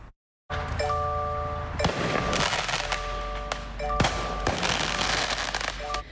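Fireworks exploding near a burning house, sharp cracks and bangs popping repeatedly at uneven intervals from a middle distance, over a steady roar and a faint ringing alarm tone.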